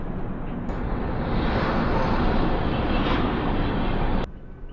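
Goods train passing, a continuous broad rushing roar that starts abruptly, holds steady for about four seconds at moderate loudness, then cuts off sharply to quiet.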